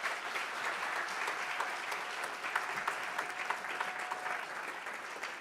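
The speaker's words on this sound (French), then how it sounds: "acclame le Seigneur très très fort" Church congregation applauding and cheering loudly in praise of the Lord, a steady dense wash of clapping held throughout with no speech.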